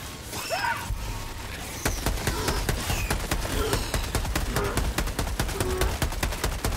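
Rapid gunfire in the video game Helldivers 2, a dense, steady stream of sharp shots that rattles on continuously with a few brief pauses, loud and close, with no talk over it.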